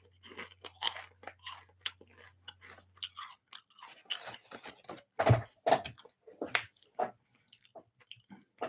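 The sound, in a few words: eating crunchy potato chips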